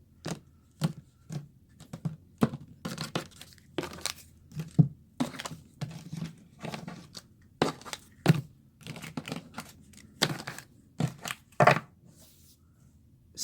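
A deck of tarot cards being cut and shuffled by hand, giving a series of close, crisp papery riffles and slaps in irregular bursts against quiet pauses.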